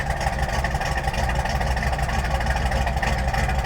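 A car engine with a Holley 4160 carburetor idles steadily in gear, a continuous low rumble with no breaks, loud and close throughout.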